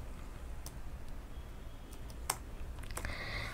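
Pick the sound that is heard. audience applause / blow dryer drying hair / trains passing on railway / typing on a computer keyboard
typing on a computer keyboard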